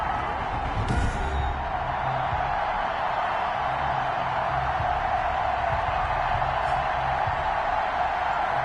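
Stadium crowd noise from an NFL football video game, Baltimore Ravens versus Houston Texans, a steady loud broadband roar of cheering fans sustained throughout with no break.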